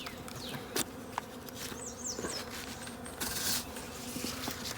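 Honey bees swarming an opened beehive in a ballpark during a first honey harvest, a steady close buzzing drone with occasional clicks and knocks from handling the hive.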